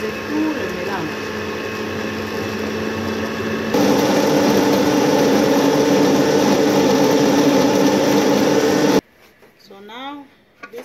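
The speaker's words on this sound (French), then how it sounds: "And now we're gonna blend everything." Kitchen blender whirring through plantain pancake batter with milk, a steady high motor whine that gets louder partway through, then cuts off abruptly, followed by a voice speaking.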